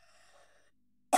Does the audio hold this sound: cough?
yes